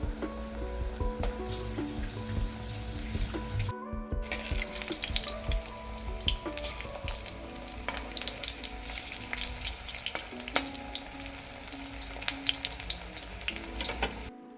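Cabbage pakora fritters sizzle steadily in hot oil, a close, continuous crackling fry with bright popping spatters and a brief gap partway through.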